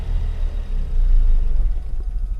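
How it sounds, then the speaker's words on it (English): Ford Focus engine running rough and struggling as if about to stall, a low uneven rumble that sags and swells with no throttle response, close and steady throughout with no voices. "So you can hear that the car is trying to die."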